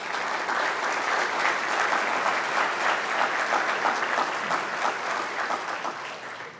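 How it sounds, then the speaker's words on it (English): A crowd claps steadily and loudly throughout, a dense wash of applause that holds its level and tapers slightly at the end. "Would you give yourself a round of applause for that?"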